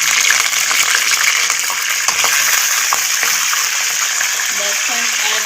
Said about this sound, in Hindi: अब हम इसके अंदर ऐड कर देंगे कीमा।